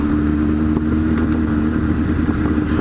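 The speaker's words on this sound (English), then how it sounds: "Oh, look at this. Motorcycles." Steady motorcycle engine drone, loud and close, with a low rumbling hum and faint clatter as bikes roll past.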